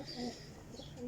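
A Sialkoti pigeon coos faintly in a brief soft murmur, with a little background noise.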